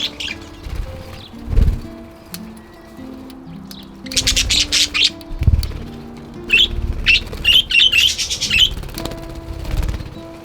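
Budgies chirp in a garden aviary with fluttering wings, giving bursts of bright, busy twittering and close wingbeats that grow denser toward the end, with no voices.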